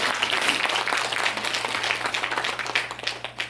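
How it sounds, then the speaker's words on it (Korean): Audience applause at a Buddhist women's workshop, a dense, steady wash of many hands clapping that holds at a fairly even level for the whole stretch, with a faint hum underneath. "우리 박수를 한번 좀 쳐주십시오"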